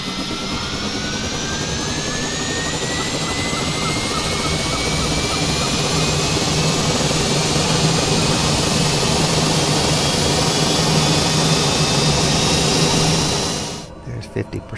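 A TBM 930 turboprop engine spools up during a start in Microsoft Flight Simulator. A steady loud whine rises in pitch over a dense roar, then cuts off sharply near the end.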